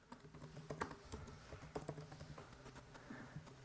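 Quiet clatter of fingers typing on a computer keyboard, a short run of irregular soft key clicks close by with no voices.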